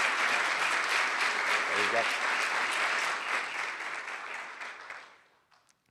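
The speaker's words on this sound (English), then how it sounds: "Let's give them a big hand of applause." An audience claps loudly and steadily at a Virginia state legislation signing event with the governor, a dense wash of applause that thins and fades out near the end, with brief talk from a speaker partway through.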